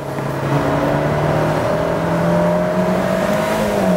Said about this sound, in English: But with the turbo spinning, full throttle acceleration is pretty good.